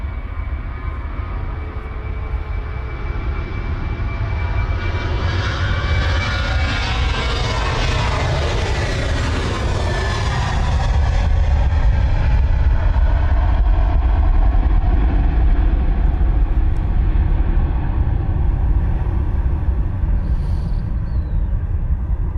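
Ryanair airliner rolling on the runway with a second jet there at the same time, a loud steady broadband engine roar building through the middle and staying strong to the end, with no voices.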